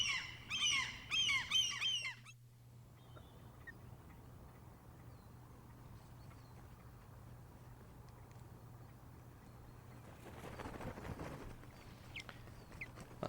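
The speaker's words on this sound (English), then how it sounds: "In the background you can hear some gulls." Gulls squawk in a brief burst of several calls at the start, fairly close and loud, then give way to a quiet outdoor background with a steady low hum.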